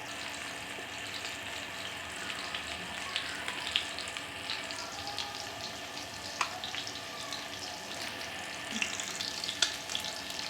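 Turmeric masala fish frying in a pan, a steady soft sizzle with faint crackles and a few light scrapes, fairly quiet and close with no voices.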